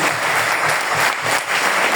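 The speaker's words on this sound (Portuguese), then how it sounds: "Uma salva de palmas para o nosso Senhor Jesus." Congregation clapping together in a church during a Sunday morning service, a dense, steady, loud round of applause filling the whole stretch without pause.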